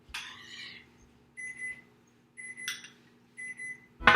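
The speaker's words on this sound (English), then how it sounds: "And there's the timer." A kitchen oven timer for baking shortbread cookies beeps in short repeated bursts about once a second, fairly near and alone, with a sharper clatter right at the end.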